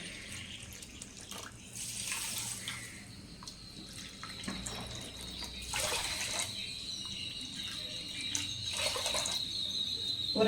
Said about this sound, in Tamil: இப்போ நான் சர்க்கரைக்கு வந்து பார்த்தீங்கன்னா தண்ணி சேர்த்துக்கிறேங்க.